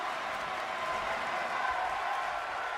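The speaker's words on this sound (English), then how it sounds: "showing her appreciation to these fans that are on their feet cheering her on" Wrestling fans on their feet cheer and applaud steadily, a dense, even wash of crowd noise filling the arena with no breaks, a commentator's voice faintly beneath it.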